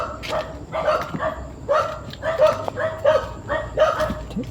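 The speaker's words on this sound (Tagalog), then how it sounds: "may aso doon" A dog barks repeatedly at a distance, sharp yelping barks coming in an uneven rhythm over quiet outdoor background noise.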